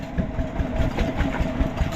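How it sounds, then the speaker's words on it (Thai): A farm tractor engine runs steadily while driving up toward the forest, giving a loud, continuous low rumble with a rapid chugging pulse and no talking. "เอารถไถนี่แหละ"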